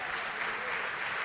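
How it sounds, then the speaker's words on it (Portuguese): A church congregation claps together during a sermon, producing a brief, even wash of steady applause at moderate loudness with no voices on top. "Vamos aplaudir o Senhor por isso."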